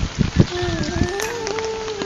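Rain falling during a heavy storm in Chittagong, a steady broadband patter that holds throughout at moderate level, with a faint sustained tone running over it.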